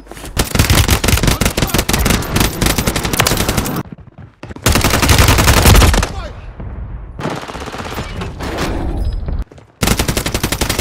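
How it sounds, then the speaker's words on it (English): Sustained bursts of machine gun fire, loud and close, with rapid automatic rounds broken by brief silent gaps and a short pause before the shooting resumes. "He's shooting."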